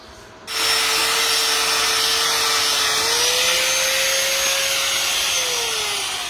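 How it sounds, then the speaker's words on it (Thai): An angle grinder spins up and grinds down a fresh flux-core weld seam on metal, a loud, sustained abrasive roar with a whining tone that shifts slightly in pitch as it works. "หลังจากเชื่อมเสร็จเราก็ไปเจียแต่งรอยเชื่อม"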